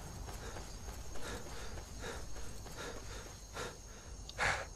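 Horses in the video game Skyrim clop and snort in a loose rhythm of hoof beats, with a louder breathy snort near the end, all fairly quiet.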